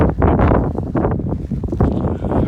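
Strong wind buffeting a microphone outdoors in an alfalfa hay field, loud continuous low rumbling gusts that swell and dip, close and overpowering, with no clear voice.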